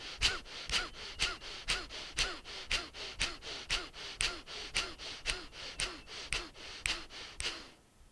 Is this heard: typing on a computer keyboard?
no